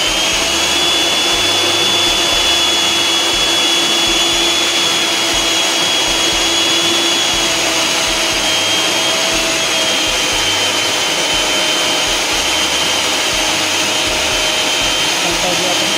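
An electric mixer beats batter for steamed black sticky rice brownies, a loud, constant close-up whirring drone that holds steady throughout.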